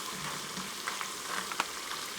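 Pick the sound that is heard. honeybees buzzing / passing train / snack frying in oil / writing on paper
snack frying in oil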